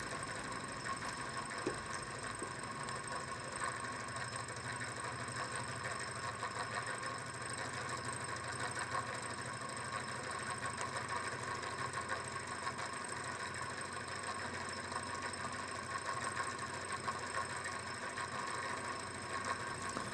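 A small Lamina Flow Stirling-like engine with a heavy 212-gram flywheel and a graphite piston of 5/8-inch diameter runs at 850 rpm, giving a faint, steady mechanical whir and rattle that continues unchanged, with no talk.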